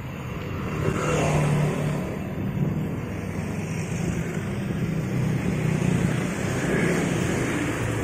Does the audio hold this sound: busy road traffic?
yes